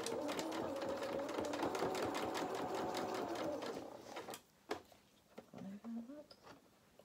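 A home sewing machine stitches a doll's sailor-dress bodice, reversing to lock the seam. It whirs in a fast, even patter for about four seconds, then stops, leaving soft scattered handling sounds.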